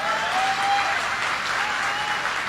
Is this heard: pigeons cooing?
no